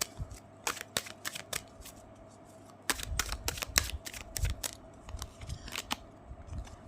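Tarot cards are shuffled and drawn up close in crisp, papery riffles and slaps. Short flurries come first, then a longer run of shuffling, with no speech over it.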